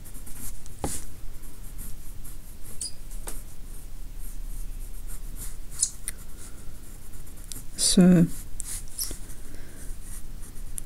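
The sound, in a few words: pencil sketching on paper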